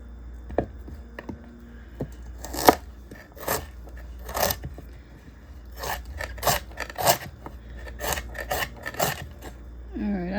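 A knife cuts the core out of a head of cabbage on a cutting board, giving a few separate crisp crunching slices and scraping rubs with quiet gaps between them, close by and without talk.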